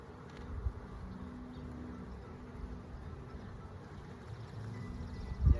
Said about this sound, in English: there's bees on the wall in there, and then there's bees all over this